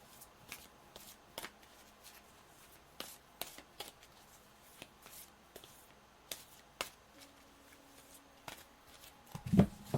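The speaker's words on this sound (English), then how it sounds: "I'll do the final shuffle here before drawing cards" A tarot deck being shuffled for a seasonal reading: repeated short riffling and card-snapping bursts spaced through the clip, close and fairly quiet, with a louder flurry of handling at the end and no talking.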